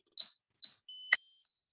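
Bosch 6000 security keypad emitting three short, sharp electronic beeps in quick succession, close and clear against silence, the last slightly longer and layered.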